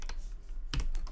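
Computer keyboard typing in short bursts: a couple of faint keystrokes early on, a pause, then a louder cluster of clicks near the end, close by with no voices.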